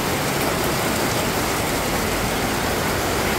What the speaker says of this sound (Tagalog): napakalakas po ng ulan